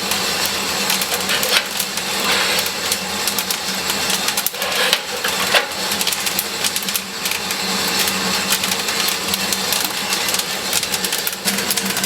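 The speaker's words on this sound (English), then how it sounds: "It's now starting to go into a rolling crack." Coffee beans crackle as they reach rolling crack in an electric roaster, a steady, dense rustle of small pops mixed with constant fan and chaff-collector noise throughout.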